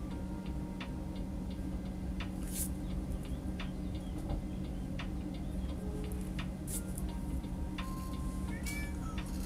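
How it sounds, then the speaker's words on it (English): A pet cat meows to be let out, faint short calls scattered over a steady low indoor hum, alongside sharp ticking clicks, with no talk. "Oh, my cat is trying to leave, so I'm gonna have to get up and let her out."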